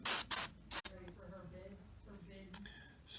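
Short hissing bursts from an airbrush or spray can painting a Tamiya 1/35 Sdkfz 250/3 Greif model: three quick sprays close up, then quieter handling noise and a softer final burst.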